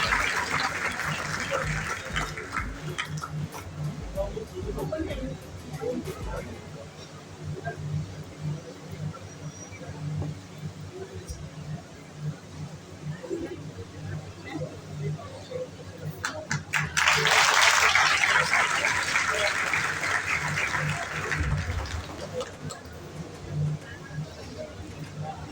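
Welcoming applause for a guest at a public gathering with a Delhi government minister, a burst of clapping from a crowd rising midway and lasting several seconds, following talk at the start.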